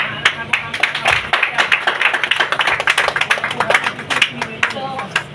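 A live audience at a silver jubilee celebration breaks into loud, sustained clapping, dense and uneven hand claps filling the room for several seconds.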